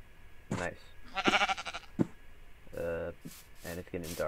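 Sheep in the video game Minecraft bleat in short, repeated calls, mixed with a player talking and game sounds.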